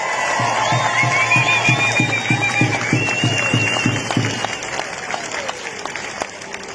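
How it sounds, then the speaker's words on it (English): Crowd applause for a speaker at a freedom rally, steady and fairly loud clapping from many hands with some cheering, a repeated low thumping pulse in the first half, then fading slightly. "give her a big round of applause."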